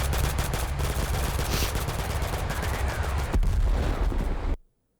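Sustained automatic gunfire fills the scene while shooting enemies in the video game Total Conflict: Resistance, a dense, loud, continuous rattle with heavy low rumble that swells near the end and then cuts off abruptly into silence.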